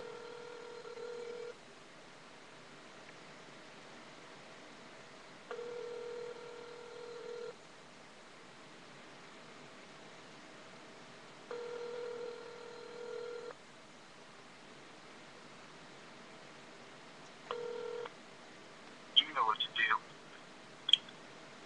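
Phone call ringing through to voicemail: four evenly spaced tonal ringback bursts over a faint line hiss, followed by a short quick beep sequence, quiet and heard through the phone.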